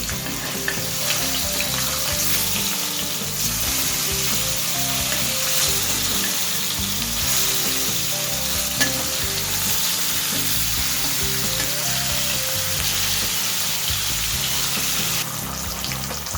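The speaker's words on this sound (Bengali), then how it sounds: "হালকা করে মাছগুলো একটুখানি ভেজে নেব।" Pieces of hilsa fish coated in salt and turmeric fry in hot oil, giving a loud, dense, continuous sizzle and crackle that runs steadily throughout with no talking.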